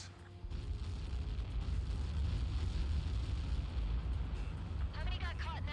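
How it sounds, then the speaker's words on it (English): A huge blast from the Helios projectile strike in the combat flight game Ace Combat 7, a loud sustained low rumble and roar filling the whole stretch, with a short burst of radio chatter near the end. "How many got caught in that explosion?"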